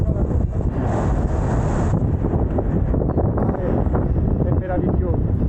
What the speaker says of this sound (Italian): Ovviamente il vento è quello che è